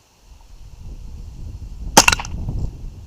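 A single close gunshot fired at a jack-o'-lantern outdoors: one sharp crack partway through, followed by a brief rumbling tail over faint background noise.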